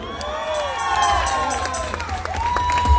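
Crowd cheering, whistling and shouting at a live concert in Lynwood, California, with a loud, steady swell of voices, rising whoops and scattered claps.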